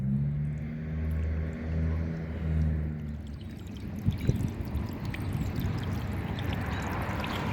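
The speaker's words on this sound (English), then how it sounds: "Was that not the easiest solar water fountain you've ever done?" A small solar water fountain in a bowl gives a pulsing low hum at first, then a steady close splashing and trickling of water with no voices.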